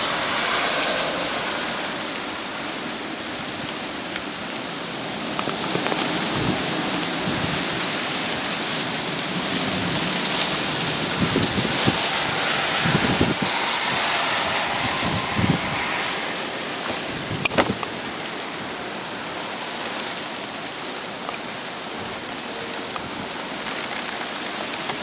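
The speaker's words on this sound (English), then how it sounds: "Oh, the wind and rain is lashing." Storm wind and heavy rain lash through trees, a steady loud roar of downpour and gusts that swells and eases across the whole stretch, with a few sharper splashes and knocks near the middle.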